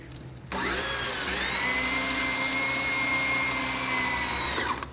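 A drill bores steadily through rock in a radio drama effect, a loud continuous whine that starts abruptly and holds a sustained pitch for several seconds before fading, with no voices over it.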